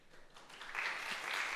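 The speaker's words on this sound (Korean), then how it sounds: "박수로 환영하고 축복하도록 하겠습니다" A church congregation applauds to welcome visitors standing during a Sunday service, a soft, distant spread of clapping that swells after the first moment and holds steady, with a faint voice underneath.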